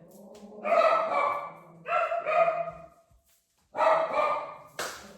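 Several bursts of barking from excited dogs, close by and loud, in three clusters with short pauses between, with a brief sharp yelp at the end.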